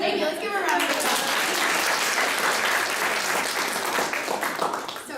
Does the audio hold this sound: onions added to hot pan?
no